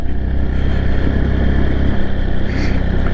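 An off-road motorcycle engine labours steadily in second gear while climbing a dirt forest road, a close, loud, low continuous drone with some clatter, with no talk.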